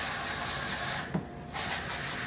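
Water rinsing a dog during a grooming bath, a steady close spray of running water with a brief interruption, no talking.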